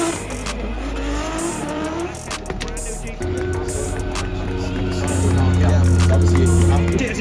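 An S13 drift car making 1,360 horsepower and weighing 1,200 kilos sweeps through corners on a drift circuit, its engine roaring and revving loudly while tires squeal and hiss, the noise building toward the end.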